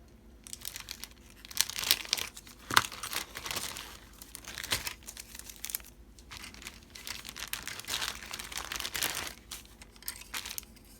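Packaging on a 1965 Dodge A990 Super Stock drag racer model kit box is cut and pulled open: close, uneven crinkling, rustling and tearing, with occasional louder snaps.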